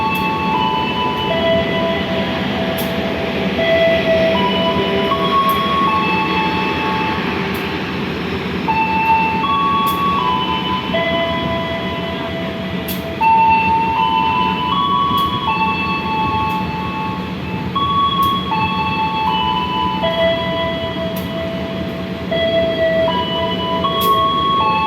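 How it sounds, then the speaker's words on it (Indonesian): Sembrani passenger train rolls past at close range, a loud, steady rumble and rattle of wagons over rails with periodic clacks of wheels on rail joints throughout, no voices. "Kalau Sembrani baru lewat."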